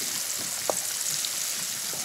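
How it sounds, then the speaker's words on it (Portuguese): Onions frying in a pan, giving a soft, steady sizzle heard close up with a single faint clink partway through. "Que delícia essa cebolinha frita."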